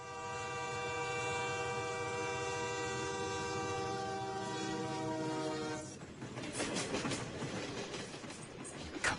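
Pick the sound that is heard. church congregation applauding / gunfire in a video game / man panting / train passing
train passing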